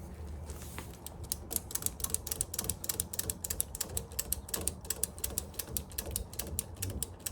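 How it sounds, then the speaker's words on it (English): Ratchet cutters work through a cut in a steady series of sharp, close metallic clicks, each stroke ratcheting in an even rhythm over a low background rumble, with no talking. "these ratchet cutters make life so much easier"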